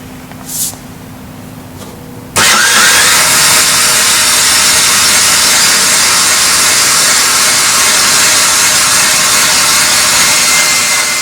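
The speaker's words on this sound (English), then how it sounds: "Each leg is run on a 12-volt power motor. So they go up and down individually." A 12-volt electric motor raising the front leg of a caravan, starting abruptly after a quiet moment and then whirring at a loud, steady drone through to the end.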